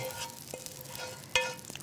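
Food stir-frying in a pan, a continuous soft sizzle with occasional scraping clicks from stirring, close and moderately quiet, with no talk.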